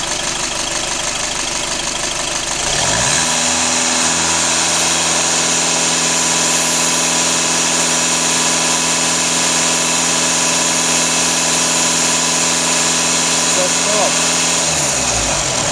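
A VW Passat 2.0 TDI diesel engine with frequent DPF regeneration starts about three seconds in and runs with a steady, strong mechanical hum and sustained revs. It stays loud and close until near the end, and people talk over it.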